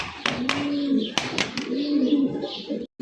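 A pair of red Lahori pigeons coo in low, drawn-out phrases at close range, broken by a few sharp claps or knocks, with a voice speaking over them.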